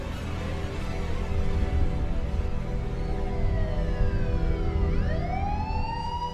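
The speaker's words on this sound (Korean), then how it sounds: "구세주 같은 경찰차 사이렌 소리." A police siren wails with sweeping tones that rise and fall, heard continuously over low traffic rumble, fairly near and loud.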